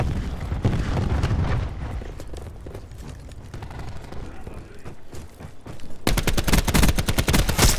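Rapid bursts of gunfire and explosions from a Call of Duty: Black Ops 4 team deathmatch, with scattered shots giving way to a dense, loud automatic volley near the end.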